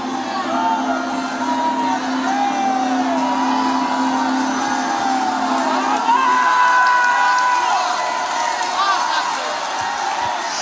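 Church congregation shouting and cheering together, a loud continuous mass of whoops and cries filling the room throughout, with a voice calling out over the din.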